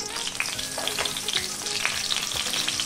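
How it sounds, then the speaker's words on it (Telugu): Eggplants frying in hot oil in a pan over a low flame for a stuffed eggplant masala curry, giving a steady, close sizzle with occasional stirring scrapes and no talk. "నూనె కాగిన తర్వాత వంకాయలు ఒక్కటొక్కటిగా ఇందులోకి వేసుకొని లో ఫ్లేమ్ మీద వీటిని వేపుకోవాలి"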